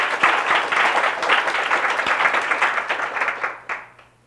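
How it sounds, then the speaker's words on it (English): An audience claps and applauds for a panel of speakers, a steady dense wash of hand claps that holds for several seconds before thinning and fading out. "please give our panelists a warm round of applause"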